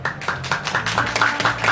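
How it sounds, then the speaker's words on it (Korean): A festival audience at the Buyeo Seodong lotus festival in Korea claps in a quick, rhythmic burst of scattered hand claps to vote for a song, with no voices over it. "자 박수로 결정할게요."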